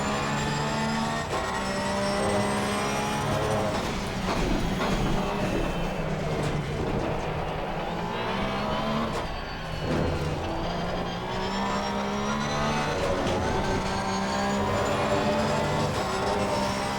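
Several race cars roar past one after another in a Porsche sim racing game, engine pitch rising and falling through gear changes, a dense, steady, loud mix of close and trailing engines throughout.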